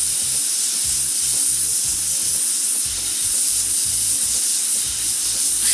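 Hot air plastic welding with a plastic ribbon fused into damaged plastic: a loud, steady hiss of the hot air gun over low, irregular rumbling bursts, close by and continuous.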